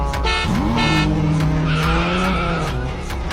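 A cartoon car skids with a long, loud tire squeal that bends into a steady pitched screech, then revs and drives off, filling the whole stretch with engine noise and no talk.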